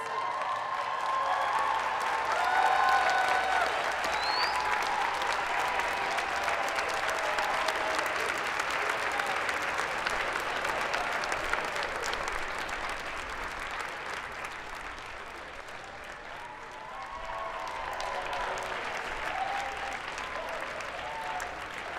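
A hall audience at a student academic excellence awards ceremony gives the honored scholars a long, sustained round of applause with scattered cheers. Many hands clap at once, fading slightly midway and then swelling again.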